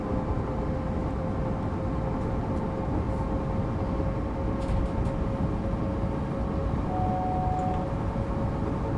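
Steady loud drone of a train driven in Train Sim World 5 on the Cologne–Aachen route, a continuous rumble with a faint steady tone and a few soft clicks, no talking.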